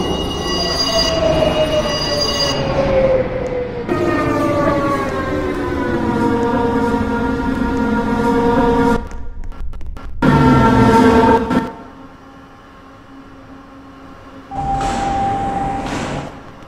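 Line 3 subway train arriving at Kennedy Station in Toronto, wheels squealing loudly with sustained pitched screeches that slide and shift, broken by brief gaps, then a quieter rumble and a final steady tone.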